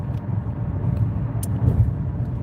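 Inside a moving car, a steady low road rumble and engine drone continue throughout, with a few faint high clicks on top and no speech.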